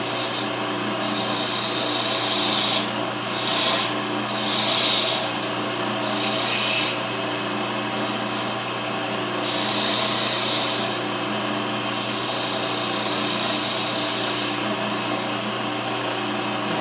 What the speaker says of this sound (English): let's go back to our other spindle gouge and finish up the bottom of this thing